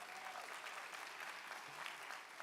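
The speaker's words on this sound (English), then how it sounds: "Give her a round of applause." Audience at a university graduation ceremony applauding in a steady, dense wash of clapping that fills the room, moderately distant and continuous throughout.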